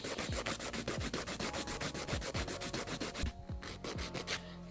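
A 100 grit file rubs across a hard gel nail to shorten its length, in quick, even back-and-forth strokes, close and regular, with a brief lighter pause near the end.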